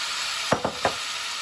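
Vegetables tumble back into a pan of sizzling teriyaki chicken stir fry, giving three quick clattering hits over a steady, faint hiss of frying.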